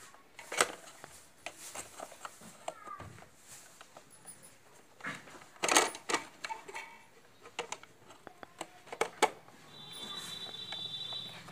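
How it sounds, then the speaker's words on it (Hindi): A cover is fitted onto a tape recorder, producing a scattered series of close plastic clicks, taps and light rattles over several seconds, with no talking. "इस कवर को लगाया भी जा सकता है जैसे कि मैं आपको दिखा देता हूँ कवर लगाकर"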